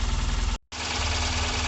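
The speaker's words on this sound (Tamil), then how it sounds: "இன்ஜின் ஸ்டார்ட் பண்ணியாச்சு, இன்ஜின் நல்லா ரன் ஆகுது" A Tata Nano engine running at a steady idle after starting, a close, even low rumble that cuts out for a brief moment and then resumes.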